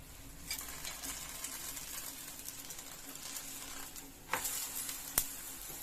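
Jowar set dosa cooking in oil on a pan, giving a steady soft sizzle throughout with a couple of brief sharper crackles near the end, close and fairly quiet.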